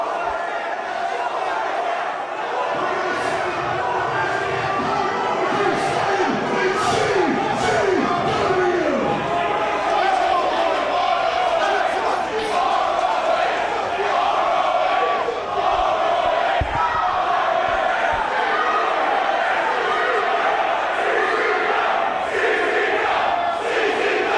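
A large wrestling crowd roars and cheers continuously at high volume, a dense wall of yelling and chanting with bursts of louder shouts that fills the whole stretch.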